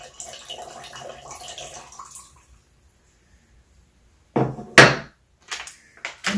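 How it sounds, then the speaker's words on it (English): Juice of one squeezed lemon poured into a batch of pineapple wine, heard as a brief liquid splash and trickle near the end after a quiet stretch, with faint handling noises before it. "Let's go ahead and add our juice of one squeezed lemon."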